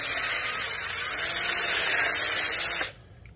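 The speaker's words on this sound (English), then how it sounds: "Just ream it out just a little," Small power tool reaming out a hole in a part from a 1958 Cushman Eagle scooter, a steady high-pitched whine running close and loud for about three seconds before cutting off abruptly.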